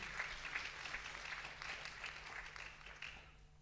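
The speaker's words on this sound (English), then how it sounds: "If you'd like to give him an applause, feel free." A conference audience applauds, a steady wash of many hands clapping at moderate volume, with a low hum underneath, easing off slightly toward the end.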